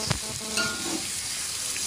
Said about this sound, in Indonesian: masukkan dagingnya. Diaduk-aduk biar bumbunya merata.